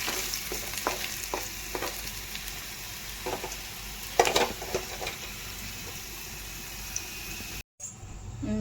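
Potatoes frying in hot oil until golden, with a steady sizzle and occasional stirring scrapes and clinks from a spoon in the pan, close and fairly loud, cut by a brief dropout near the end.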